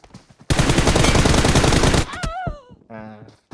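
Automatic gunfire in the mobile battle royale game PUBG Mobile, a dense, loud burst of rapid shots lasting about a second and a half, followed by a sliding whistle-like tone and brief game sounds.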